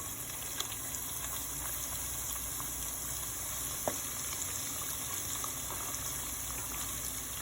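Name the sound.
chicken gizzards frying in grease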